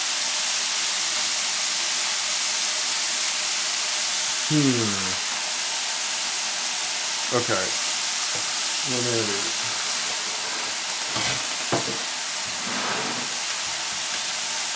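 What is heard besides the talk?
bacon frying in a pan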